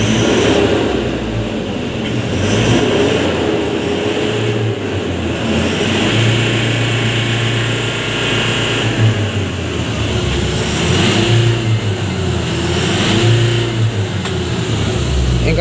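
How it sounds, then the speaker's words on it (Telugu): A vehicle engine is started and revved by pressing the accelerator, rising and falling in a few loud surges over a rough, continuous running drone, close to the listener. "బండి స్టార్ట్ చేశాను. ఓకే, ఎక్సిలేటర్ తొక్కి సౌండ్ ఏమైనా వస్తుంది అని చూద్దాం."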